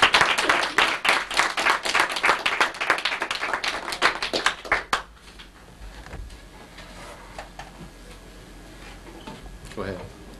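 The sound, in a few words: audience applause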